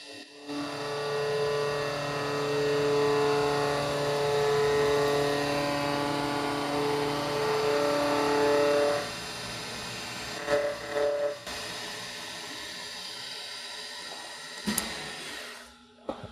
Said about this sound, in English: I'm going to use vertical milling machine, knee and column type with an end mill cutter.